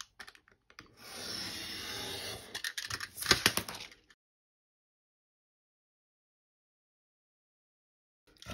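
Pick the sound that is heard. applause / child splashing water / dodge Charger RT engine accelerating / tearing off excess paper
tearing off excess paper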